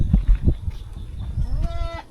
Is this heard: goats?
yes